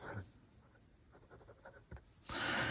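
A fine-nib Mont Blanc 146 fountain pen makes a few soft, close scratching strokes on paper, then a louder, denser scratch near the end. No voices are heard.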